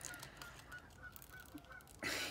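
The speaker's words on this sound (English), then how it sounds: "Actually, the geese." Geese honking outdoors in a string of short, evenly spaced calls at moderate distance, followed by a louder burst of broadband noise near the end.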